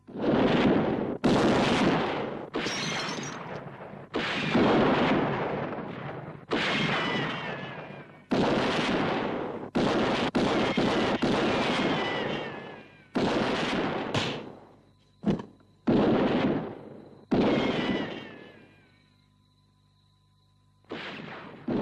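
Gunfire in a shootout with police, loud bursts of shots crackling and booming in irregular volleys with brief pauses between them, and no speech over it.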